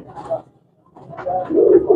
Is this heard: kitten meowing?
no